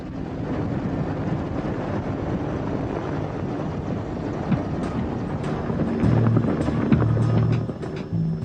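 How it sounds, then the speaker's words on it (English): Mi-24 Hind assault helicopter, a Gulf War capture from Iraqi troops, heard as a steady low rotor and turbine rumble with wind buffeting, growing heavier and more throbbing toward the end. "An Mi-24 assault helicopter captured from Iraqi troops in the Gulf War."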